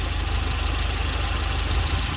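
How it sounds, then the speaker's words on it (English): A Volvo 940 engine idles steadily with a low, even rumble and faint rhythmic knocking, close by and uninterrupted. "if the engine changes in pitch or the revs drop"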